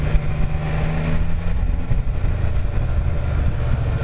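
Can-Am Spyder engine running rough and missing on one cylinder, a loud, close, continuous drone with uneven low rumbling throughout and no talking.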